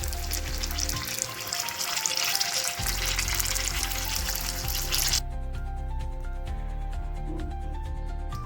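Mirchi bajji, batter-coated chilli fritters, frying in hot oil with a loud, dense crackling sizzle throughout, close up, the bubbling easing somewhat partway through.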